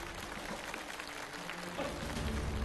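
Audience applause at a French challenge show, a dense steady patter of clapping from a crowd that swells slightly toward the end, with no voices.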